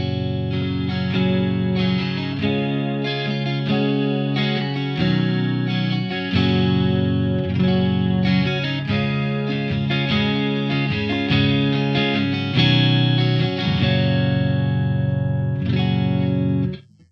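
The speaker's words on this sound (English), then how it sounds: "So here's the chorus on and off." Electric guitar on a clean channel plays chords and notes through a chorus pedal in D-bucket mode, toggled on and off so the shimmering, swirling wash comes and goes, steady in level until a sudden stop at the end.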